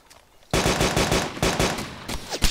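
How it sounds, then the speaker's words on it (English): Rapid bursts of automatic machine gun fire in the video game Arma 2 crack out in quick succession, loud and close, with a short pause before more shots. "Yeah, he's shooting back."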